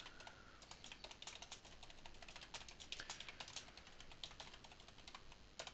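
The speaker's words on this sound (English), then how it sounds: "as you can see, I can type pretty badly." Someone types on a computer keyboard, with quick, irregular clacking keystrokes running steadily and close, without talk.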